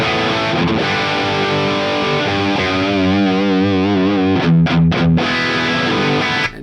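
Heavily distorted electric guitar played through a Marshall JCM 800 amplifier, loud and sustained chords ringing alone before cutting off at the end.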